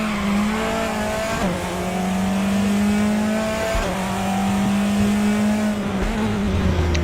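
A loud truck engine in a racing video game drones steadily with a high whining tone, its pitch dipping briefly as it brakes, then holding again.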